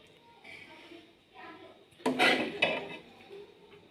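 Mixed vegetable sabzi with soy sauce being dished out: a soft scrape of a spoon against the pot, then a louder clatter and clink of utensil on dish for about a second, over quiet background noise and faint talk.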